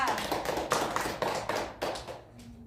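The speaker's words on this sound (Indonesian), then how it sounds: "tepuk tangan untuk kelompok 2" Classmates applaud a student group in a classroom with a short burst of close, brisk hand clapping that fades out after a couple of seconds.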